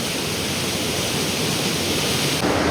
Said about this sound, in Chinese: 这瀑布声音好响好响的